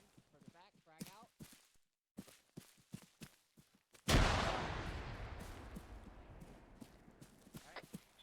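During squad training, voices trade short calls before a frag grenade detonates in one loud, sudden blast, then a long rumbling decay trails off over several seconds.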